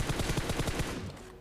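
A rapid burst of automatic gunfire in PUBG Mobile, about ten quick shots in a steady rhythm, ending abruptly and leaving a brief fading tail.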